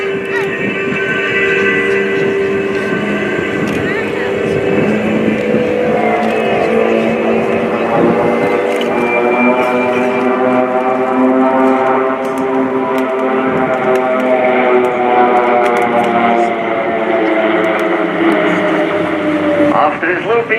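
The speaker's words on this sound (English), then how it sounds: "The 9 Pilatus PC-7 aircraft not only give the team the name, it also makes it the largest turboprop display team in the world." Nine Pilatus PC-7 turboprop aircraft of a display team flying in formation at an air show, a loud sustained droning roar with shifting engine tones as the formation passes, with a commentator talking over it.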